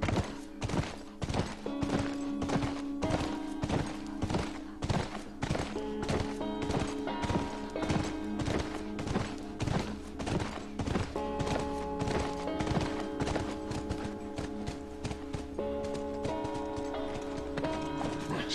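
A horse gallops in The Last of Us game, a rapid, steady run of loud hoofbeat clops continuing for nearly twenty seconds over a low game soundtrack, with no voices.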